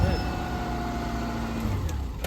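A worn-out Subaru Forester boxer engine keeps running, a steady low idling rumble with faint tonal whine, heard close and continuous with no break.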